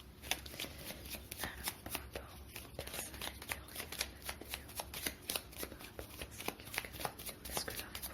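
Lenormand cards being shuffled by hand, a quick run of crisp riffling flicks in steady bursts, close but soft, with no speech.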